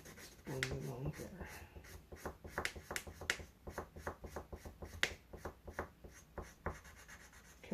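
Steady scratchy rubbing of a colored pencil blender on grey paper with quick back-and-forth strokes, close and fairly quiet, with occasional soft taps.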